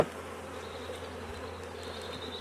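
Honeybees buzz steadily around an opened brood box full of honey, a dense, even drone close by with no voices.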